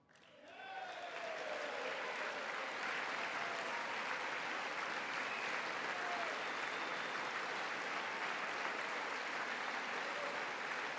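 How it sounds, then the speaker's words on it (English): A large audience in the chamber of a speech to Congress breaks into sustained applause, a dense, steady wash of clapping that starts abruptly and holds loud for about ten seconds. "I'm not even worried if they're clapping on the other side"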